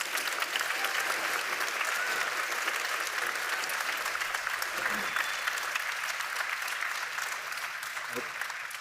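An audience at a youth forum main venue applauds its panelists, a dense, steady wash of clapping that holds loud for the full stretch before easing slightly near the end.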